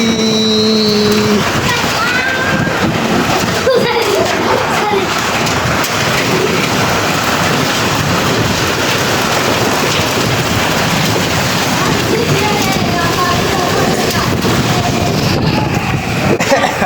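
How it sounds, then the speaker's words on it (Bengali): Heavy rain pours during a sudden evening spring nor'wester storm, a loud, steady downpour with rumbles of thunder, as people talk nearby. "বৃষ্টি"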